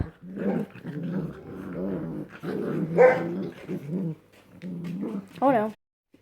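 Four puppies growl and yap in short playful bursts, close up, while someone talks over them in between.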